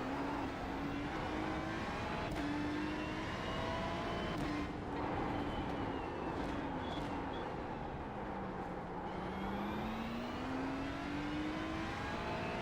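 A Ferrari GT3 race car in a racing video game at Mount Panorama sends out a continuous engine note, rising and falling through gear changes and revs, loud and steady throughout with no talk.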